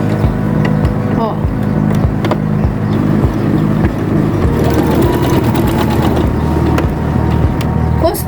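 A sewing machine stitches fabric with a rapid, steady mechanical whirr and needle clatter, running close and continuous throughout, while someone talks over it.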